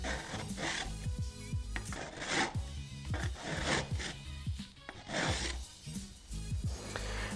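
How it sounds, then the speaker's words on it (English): Whole nutmeg is rubbed against a grater for a Brandy Flip garnish, giving repeated close scraping strokes in an irregular rhythm with no speech. "I prefer to grate my own very own nutmeg"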